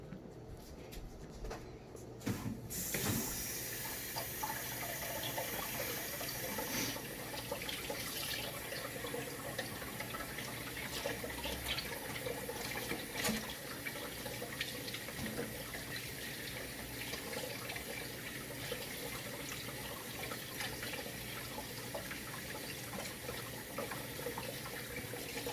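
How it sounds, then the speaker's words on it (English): Tap water runs steadily into a kitchen sink while hands are washed, a continuous close splashing stream that starts after a brief quiet moment and keeps going throughout, with no talking. "I'm just gonna wash my hands off"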